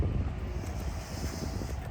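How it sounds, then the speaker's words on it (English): Wind buffets a microphone outdoors in a park, a steady low rumbling roar with gusty fluttering that carries evenly through the whole stretch, no voices. "It's a little breezy though, so hopefully we can avoid the breeze with the specific microphone."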